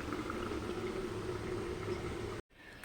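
Dhokar dalna, a lentil cake curry, simmers in a covered pot, giving a steady close bubbling hiss that runs evenly, then cuts off abruptly near the end to a much quieter background.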